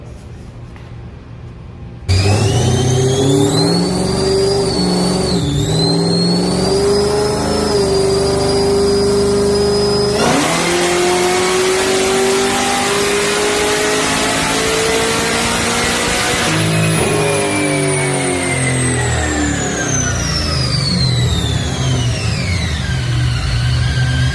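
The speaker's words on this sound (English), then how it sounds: "We're on the dyno today with the 2010 Camaro. We just made the first pull." A supercharged, nitrous-equipped 2010 Camaro with Holley Dominator engine management revs hard on a dyno, its loud engine note rising and falling in pitch through a full pull, steady and close with no talk.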